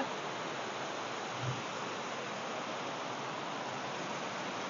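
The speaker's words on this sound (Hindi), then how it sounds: "एटा गोटे मस्त पानी पडुछे" Water pours down the Gunji waterfall in a continuous, even hiss of falling water, steady and unbroken throughout, with one faint low thump near the start.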